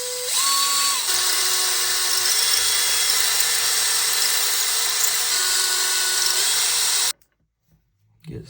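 A power driver drives a 3 millimeter screw into holes in a scooter build, a high steady whine with pitch shifts as the screw bites, then stopping abruptly into near silence.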